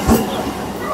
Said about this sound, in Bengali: আমাদের ট্রেন নির্ধারিত সময়ে ছেড়ে দিয়েছে